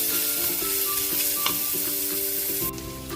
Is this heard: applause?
no